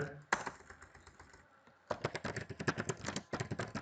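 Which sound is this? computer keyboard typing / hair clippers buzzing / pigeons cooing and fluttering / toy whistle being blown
computer keyboard typing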